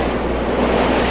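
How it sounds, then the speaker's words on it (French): Broad, rushing wash of ocean surf, steady and close, with no voices. "Promis le bruit des vagues."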